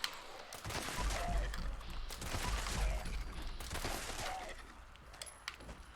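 A 10mm pistol with Vampire, Explosive and +1 Agility traits fires at ghouls in a video game: several loud, sharp shots and impacts over about six seconds, separated by short gaps.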